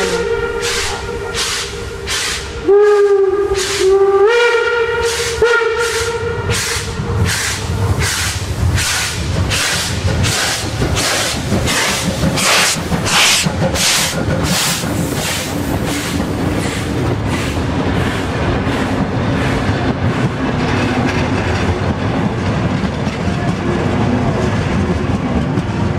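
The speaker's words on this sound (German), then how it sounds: "hörte man die Lok doch noch in Kilometer weiter entfernt" Steam locomotive on a Westerwald railway line, opening with a loud shrill whistle blast, then heavy rhythmic chuffing that speeds into a rapid pounding beat alongside hissing steam and rolling wheel noise, close and loud throughout.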